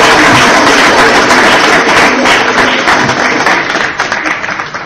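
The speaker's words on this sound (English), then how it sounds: "Give him a round of applause." A seated audience at a lecture and debate event gives a sustained, dense round of applause that stays loud and even for about five seconds, then thins slightly at the end.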